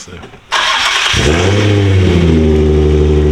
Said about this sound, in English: It's still a straight pipe car, so it's gonna be loud.